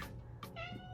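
A cat meows twice in quick succession, close and fairly clear, the second call longer and drawn out.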